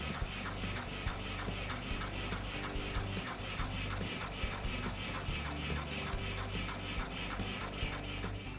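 A Durkopp Adler heavy-duty industrial sewing machine, fitted with a toe harness foot for extra-heavy materials, runs steadily and loudly with a rapid, even mechanical clatter of repeating stitch cycles throughout.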